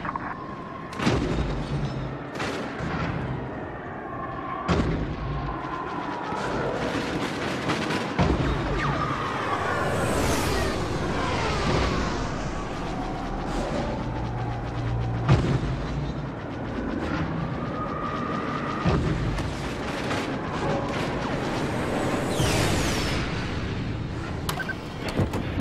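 Y-wing bombers strike in Star Wars Battlefront, setting off repeated loud, close explosions and sharp blasts over a constant roaring rumble of battle noise that runs the whole time.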